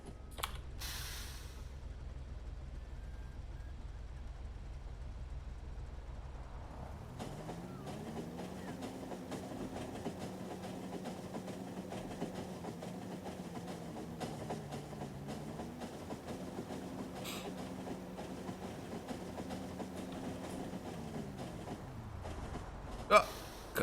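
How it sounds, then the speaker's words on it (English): In the video game Factorio, a train runs with a faint, steady low hum that swells in pitch, holds and then fades, while keyboard typing clicks along quietly over it. "Man, these trains. I just see them zip zooming around everywhere."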